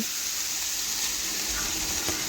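Soaked, drained chowmein noodles dropped into a hot pan with carrot and onion give a steady loud sizzle and hiss, close and continuous for the whole moment, with faint stirring underneath.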